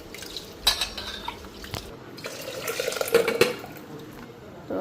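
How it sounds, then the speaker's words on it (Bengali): Lentils being rinsed by hand in water inside a pot, with close splashing and sloshing broken by clinks of the pot and utensils, running steadily through the stretch. "ডালটা ধুয়ে নিই ভালো করে।"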